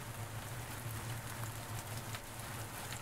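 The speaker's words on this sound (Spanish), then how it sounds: "Está lloviendo." Steady rain falls in the survival horror video game Shift 87, a constant dense hiss of drops spread evenly under a low hum, with no one speaking.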